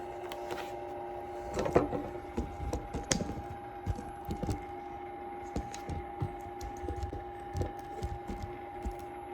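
A sewing machine stitches fabric into a narrow string, with soft, irregular mechanical clicks and thumps over a steady motor hum, fairly quiet throughout.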